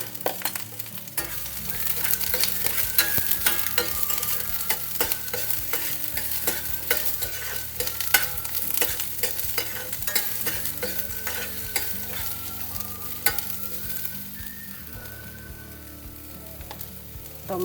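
Green chillies, ginger and garlic stir-frying in a pan for a beetroot chapathi and palak soya chunks curry meal, with a continuous close sizzle and frequent rhythmic scraping and clinking of a spatula, and no speech.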